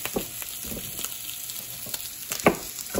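Sausages frying in a home kitchen pan give off a steady close sizzle with faint crackles, broken by a few louder spits and pops near the end.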